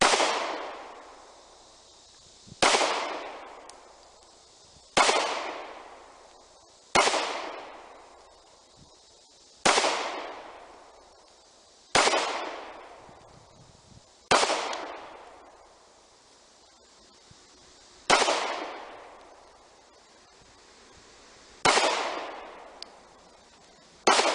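A KelTec P11 9mm pistol fires at an outdoor range, about ten loud, sharp shots spaced a couple of seconds apart, each followed by a fading echo, with no talking between them.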